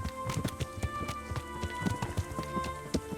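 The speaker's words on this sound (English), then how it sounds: "O cavalo tá mó rápido" A horse gallops fast in the medieval video game Kingdom Come: Deliverance, with steady rapid hoofbeats thudding at close range over a low ambient background.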